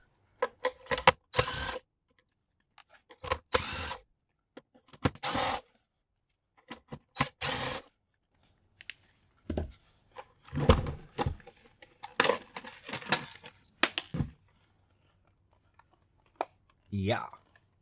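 Screws being removed from the underside of a food processor base, heard as intermittent bursts of clicking, scraping and metallic rattling with pauses between, close by and moderately loud.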